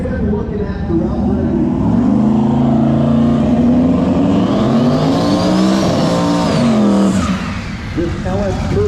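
An LS-swapped turbocharged Volvo drag race car roars loud and sustained at a drag strip, engine pitch climbing and shifting through a run, with a commentator's voice talking over the engine noise.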